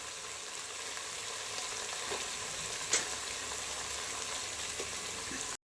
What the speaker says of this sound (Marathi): आलं लसूणच्या पेस्टमध्ये उग्र वास येतो म्हणून मी चांगली तेलामध्ये फ्राय करते